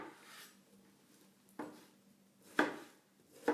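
Knife slicing papaya into quarters and cubes, a few faint separate cuts and taps on a board at an irregular pace, close and quiet with no talk.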